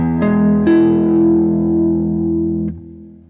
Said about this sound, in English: at the reverb module, I have a natural reverb. It's a big hall reverb